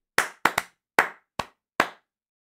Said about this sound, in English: they got people to clap out the opening line of "Happy Birthday to You."